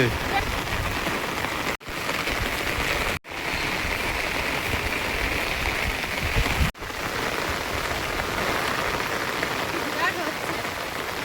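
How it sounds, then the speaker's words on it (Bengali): Heavy rain pours down steadily in a large jungle, a dense, loud, continuous hiss of drops on surfaces lasting throughout, broken only by a few abrupt momentary cuts. "না, আজ বিরাট বৃষ্টি হচ্ছে"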